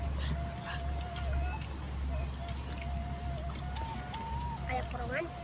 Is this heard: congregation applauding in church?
no